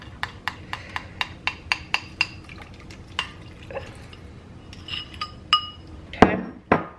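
A utensil mixing keto cake batter with a milk and vinegar mixture in a bowl, a quick run of sharp regular clinks against the bowl, then slower scraping taps and a louder knock near the end.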